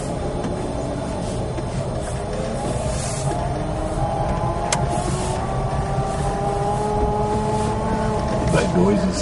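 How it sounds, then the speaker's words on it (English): An electric-converted Sherpa van creeps along in reverse gear, its gearbox giving off a steady whining hum with a few tonal layers over continuous low rumble, close and moderately loud inside the cab. "That noise is sort of reverse gear."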